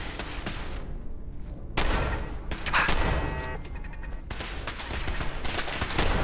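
Gunfire rings out in Fallout 4's Nuka World in a rapid fusillade of sharp close shots, with louder bursts after the second mark layered over game noise.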